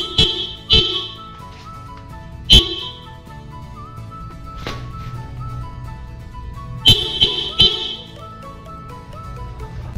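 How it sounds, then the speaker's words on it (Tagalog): Horn of a Kawasaki Vulcan 650 motorcycle, sounded in several loud, sharp beeps: a quick double blast, a single one, then another pair near the end, over a low idle-like rumble. "yan po ang tunog ng ating busina. So malakas talaga po."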